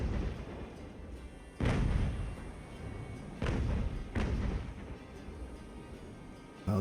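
Ship cannons fire grapeshot in the naval video game Ultimate Admiral Age of Sail, three heavy booming shots at uneven intervals over a steady rumble of sea and battle ambience.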